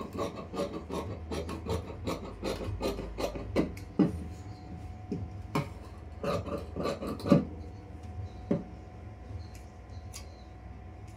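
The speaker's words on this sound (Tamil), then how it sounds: "இப்போ கட்டிங் பண்ணிடுறேன்." Scissors snip through blouse front fabric in a home tailoring session, a steady run of short, crisp cuts close by that slows and thins out toward the end, with nobody speaking.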